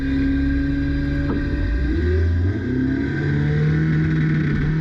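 A loud drag race car engine, a Nissan Skyline GT-R R33, drones and revs continuously, its pitch shifting up as the car accelerates, heard steadily from nearby.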